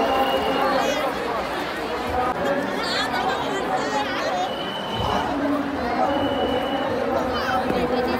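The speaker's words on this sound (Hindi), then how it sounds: "चलते रहिए, बहुत ज्यादा भीड़ है" A dense crowd of people chattering all at once, a constant close babble of many overlapping voices with no single speaker standing out.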